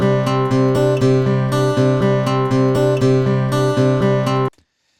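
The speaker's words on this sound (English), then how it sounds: "We've got an acoustic guitar loop here, which with no processing sounds like this." Unprocessed acoustic guitar loop strumming a bright, full chordal rhythm with steady repeated attacks, close and loud, ending in an abrupt cut to silence.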